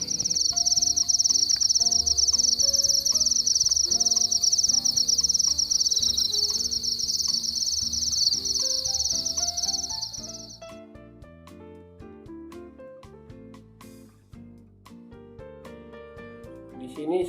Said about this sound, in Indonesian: pada jangkrik jantan dengan ciri khasnya yaitu mengeluarkan suara yang khas